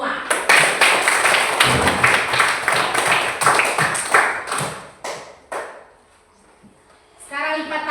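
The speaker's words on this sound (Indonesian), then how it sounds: "Beri tepuk tangan untuk kita semua." A group of children and a teacher clapping together in a classroom, a loud run of rhythmic hand claps lasting several seconds, then a pause and children's voices.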